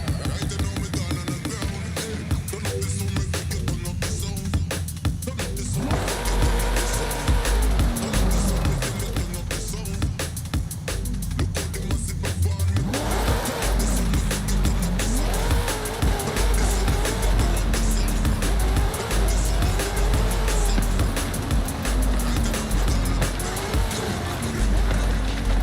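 A 1953 C1 Corvette in a video game drives with a continuous loud engine roar and rising and falling revs, blended with dense game sound effects and tire noise throughout.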